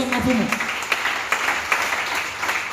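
A church congregation applauding the Lord during a French sermon, with dense clapping that swells and settles under a preacher's raised voice.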